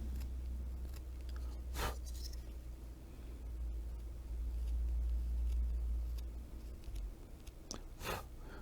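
A wood carving gouge makes small cuts in wood to texture a carved wood spirit. A few sharp scraping and snipping cuts sound over a low steady background hum.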